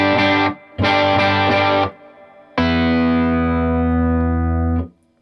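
Crunchy, mildly distorted electric guitar through a Milkman Half Pint amp turned down to a lower volume: a short chord, a quick run of repeated strums, then one long chord ringing out and slowly fading.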